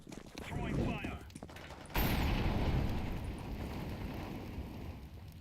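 A thrown fire grenade bursts into flame in a video game shooter, a sudden roar that settles into a steady crackling burn, with a voice speaking just before.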